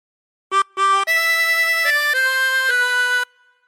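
A chromatic harmonica plays a phrase of the Star Spangled Banner. Two short notes come first, then a longer sustained line that steps between pitches, clear and close, with no accompaniment.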